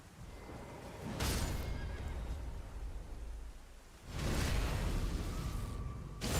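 Horse neighing in the video game Elden Ring: two loud, breathy whinnies about three seconds apart, each a sustained noisy burst over a steady low rumble of game ambience.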